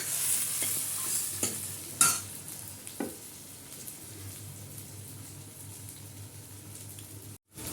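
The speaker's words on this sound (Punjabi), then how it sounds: "ਹੁਣ ਸਾਡਾ ਲੱਗ ਗਿਆ ਜੀ ਤੜਕਾ" A tempering of onion and tomato sizzles steadily in a pan, with a few clinking stirs early on before it settles into a quieter fry.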